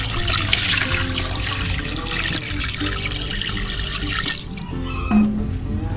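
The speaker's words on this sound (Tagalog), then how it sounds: "lalagyan na po natin ng tubig." Water pours steadily and fairly loudly into a cooking pot holding already-mixed solid ingredients, a continuous splashing rush that eases near the end.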